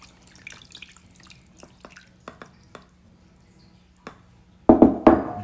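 Garlic marinade is poured over a venison shank. Scattered soft drips and taps lead to a short, louder splashing pour near the end, with no talking.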